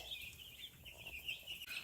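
Young chicks being raised as meat birds give soft, faint high peeping calls that run continuously over a low background rumble.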